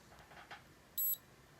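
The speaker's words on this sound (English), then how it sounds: "when it connects, you'll hear it beep" A wrinkle iron skin device gives a single short, high-pitched electronic beep as it connects, brief and clear over a quiet room with faint rustling before it.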